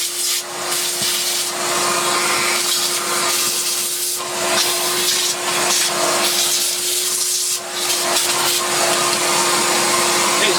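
A Dyson DC50 Small Ball vacuum cleaner with a clogged intake runs steadily and loud at close range, a constant whirring drone with a fixed motor hum and rough airflow rustling throughout, no talk.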